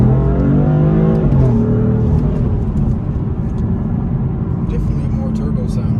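A BMW 435i with cold air intakes and a turbo engine accelerates from inside the cabin in a steady, loud, droning pull with a rising engine tone, while people talk over it.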